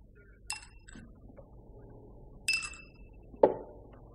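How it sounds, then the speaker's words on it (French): Two ice cubes clink into a glass of scotch, sharp glassy chinks spaced apart with a faint rattle between them, quiet and close in an indoor room. "Tiens, le voilà ton scotch. Un glaçon? Évidemment. 2 glaçons."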